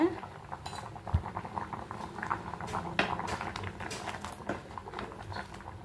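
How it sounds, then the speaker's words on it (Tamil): A spoon stirring sambar powder into a bubbling pot, clinking and scraping against the metal over a steady simmer, close by, with kitchen clatter. "சாம்பார் தூள் போட்டு நல்லா மிக்ஸ் பண்ணி விட்டுட்டு குக்கர் முடியலாங்க"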